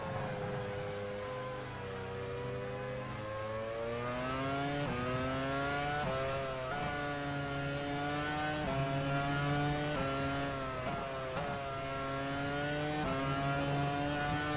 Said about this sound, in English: Best sounding Porsche in my opinion.